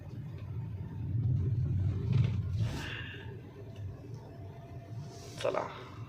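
A 2024 Hyundai Creta rolls down a road toward a beach point, its low cabin rumble rising and easing, with a few brief sharper sounds from outside.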